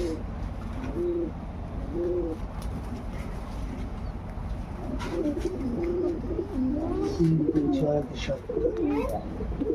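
Red King pigeons coo in low, repeated throaty calls, several birds overlapping close by over a steady background hum, with a voice talking among them.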